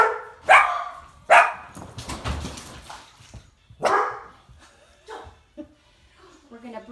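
Several dogs bark loudly in a burst of overlapping yaps and barks during a full-body mat exercise class, then taper to scattered whimpers and yips while an instructor's voice talks over them.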